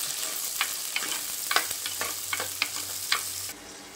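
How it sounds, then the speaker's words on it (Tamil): Onions and green chili sauté in a pan for a Tamil-style prawn curry, giving a steady broadband sizzle. Several sharp spatula scrapes and stirring clicks sound close by, and the frying quietens abruptly near the end. No one speaks. "சேர்த்து நல்லா வதக்கிக்கலாங்க."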